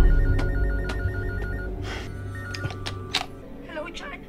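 An office telephone rings in a repeating electronic trill, close and clear over a steady low hum, with a few clicks and faint background sounds toward the end.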